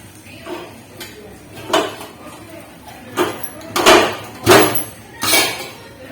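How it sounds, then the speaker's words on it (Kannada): Idli cooker plates being pulled out in a home kitchen, a series of metal clatters and scraping clanks that come in irregular bursts, growing louder toward the end, without talking. "ಇದು ಇಡ್ಲಿ ಕುಕ್ಕರ್ ಪ್ಲೇಟ್ ತೆಗೆದನ"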